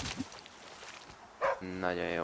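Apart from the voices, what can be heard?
dog barking in The Flame in the Flood video game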